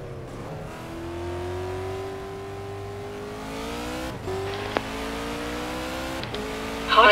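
A race car from a racing video game laps the Paul Ricard circuit in France, its engine holding a steady loud tone that climbs through gears, with brief drops at shifts and a sharp burst near the end.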